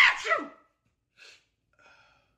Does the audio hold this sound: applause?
no